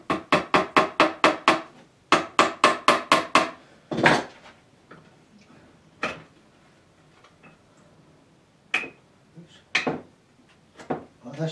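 Fixings are hammered into the frame of an oil-on-board painting: two quick runs of about six sharp, evenly spaced taps, followed by a few scattered single knocks. The blows are close and loud against a quiet room, with no talking.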